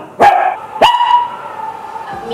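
A pet dog barks twice in quick succession, loud and close, and a softer whine trails off afterward.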